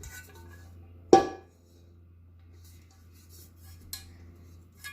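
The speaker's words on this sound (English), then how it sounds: "So this is the cooking pot." A non-stick cooking pot from a Crock-Pot Express easy-release pressure cooker gives one sharp metallic clunk as it is handled, followed later by a couple of faint taps over a low steady hum.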